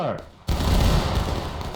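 A sudden massed rifle volley in the War of Rights game on the Waterways map erupts after a short quiet gap and rolls on as a loud, sustained crackle of musket fire.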